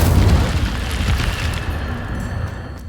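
Incendio fire spell cast in Hogwarts Legacy, a loud fiery whoosh-boom that starts strong and trails off into a crackling, fading burst.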